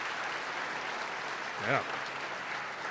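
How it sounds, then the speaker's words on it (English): A crowd at a high school sports awards ceremony claps in a soft, continuous background patter, fairly distant and faint, while one person briefly speaks partway through. "Clap for that one."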